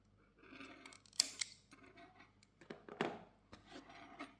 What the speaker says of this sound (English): I will just cut this extra yarn.